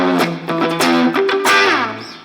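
Enya Inspire guitar played through its built-in speaker and effects, a few distorted, thick notes and chord stabs with bends, ringing out and fading at the end, no talk.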